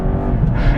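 A 2018 BMW 330e plug-in hybrid accelerates in sport mode, giving a brief, loud, close engine drone with a rising, rumbling tone heard from inside the car.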